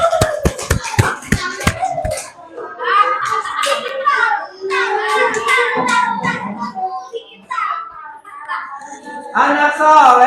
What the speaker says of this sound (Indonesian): Oke, kasih tepuk tangan buat semuanya.